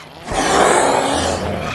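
Laika, a creature in the VR video game Robinson: The Journey, gives one loud, rough roar that swells and holds for over a second before easing off, alone without speech.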